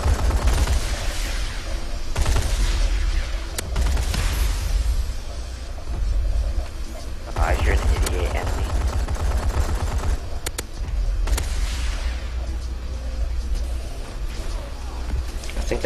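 Sustained rapid gunfire from the video game Advanced Warfare as a Paladin killstreak is shot down, a dense, loud barrage of shots and bursts continuing throughout.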